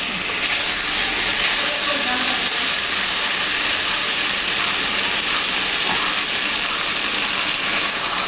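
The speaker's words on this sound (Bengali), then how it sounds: "আমি এখন গরম জল করে রেখেছি, ওইটা আমি দিয়ে দিতে পারি।" Hot water poured into a sizzling pan of browned country chicken curry, a dense steady hiss and crackle of steam filling the space, close and loud throughout.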